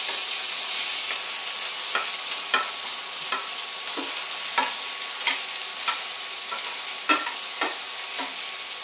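Steady sizzling of corn frying in a pan, with a spoon scraping through it roughly once a second.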